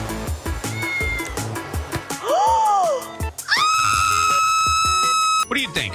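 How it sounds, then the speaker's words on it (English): A cat meows in a roleplay video game, two drawn-out wailing meows rising and falling over busy background game music and chatter, loud and close. "I hear a cat."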